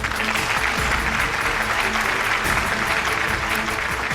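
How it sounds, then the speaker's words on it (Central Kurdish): A university quiz-contest audience applauds to welcome a contestant. The clapping is dense and sustained, loud and even from start to finish, and no voice rises above it. "ئەمەوێ لە زانکۆی پۆلیتەکنیکی سلێمانیەوە بە چەپڵەیەک پێشوازی بکەین لە باڵێن"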